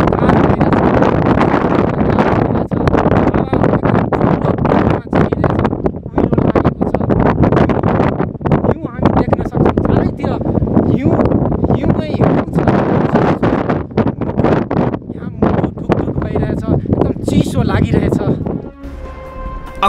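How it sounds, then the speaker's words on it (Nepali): Strong wind buffets the microphone high on Lipulekh pass, a loud, continuous roaring rush that gusts unevenly for about nineteen seconds before easing off at the very end. "बोलेको कुरा वेगमा चलेको हावाका कारण दुरुस्तै क्यामेरासम्म पुग्दैन।"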